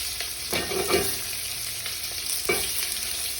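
Sliced onions with a pinch of salt sauté in a pan for beef curry, a soft steady sizzle broken by a few scraping stirs, close and quiet with nobody talking.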